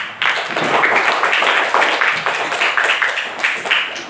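Grade 5 schoolchildren in a classroom clap their hands together in a dense, lively patter that stays fairly loud and close for the whole stretch, with no clear speech on top.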